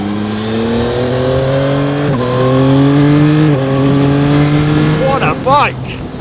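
A Yamaha MT-09 SP motorcycle engine revs steadily while riding, pitch climbing through the gears with a brief drop at each shift, loud and close, ending in quick throttle blips.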